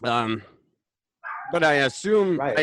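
A dog barks several times in short, sharp bursts at close range, first alone and then under and between a person's talking.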